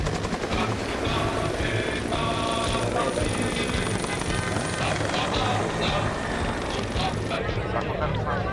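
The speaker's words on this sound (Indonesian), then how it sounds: "Letnan Kolonel CPN Julfirman Caniago diawali oleh elemen 3 unit helikopter AS-350 dan Bolko 105" Indonesian Army AS-350 and Bolko 105 helicopters flying in formation during a military exercise, a continuous loud rotor and engine roar throughout, with a narrator speaking over it.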